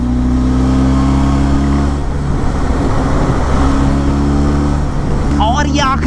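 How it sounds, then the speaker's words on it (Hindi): Benelli TRK 502 motorcycle engine held at a loud, steady drone with strong low harmonics, pitch shifting slightly as it revs, with a voice speaking briefly over it near the end. "तो आवाज के पूरे मजे लिए जाए और खींच दे बाइक को फिर से"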